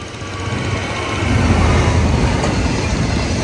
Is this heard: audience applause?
no